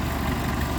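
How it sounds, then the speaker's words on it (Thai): An engine idles with a steady, even low rumble, close and continuous, no voices over it. "เดินเบาครับ"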